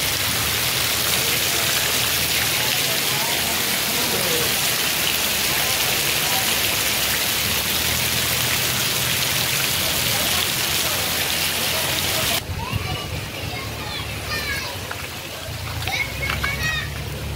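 First monsoon rain of the season pouring on a Konkan village, a dense steady patter and splash throughout, with a brief change in tone near the end and faint voices underneath.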